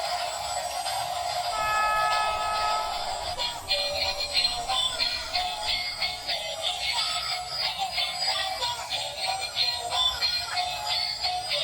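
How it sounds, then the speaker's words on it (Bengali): A switched-on toy high-speed train engine plays a thin, tinny electronic tune of repeated bright beeps, fairly close and continuous, with no talking. "একটি হাই স্পিডের ট্রেন ইঞ্জিন, ওহো এটা ওর সুইচ আছে, আমি অন করে মিউজিক শোনাবো"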